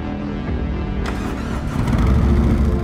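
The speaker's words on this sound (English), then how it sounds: "Powered by the Milwaukee 8 engine." A Harley-Davidson motorcycle's Milwaukee 8 engine catches with a sharp burst, then revs up into a deep, throaty rumble that grows louder and holds.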